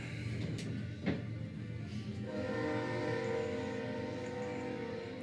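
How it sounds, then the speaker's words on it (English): Train sound effect played during a pool match stream: a sustained, steady rumble with a drawn-out horn-like tone rising in the middle, loud and continuous with no talk over it. "Here comes the train. Choo choo."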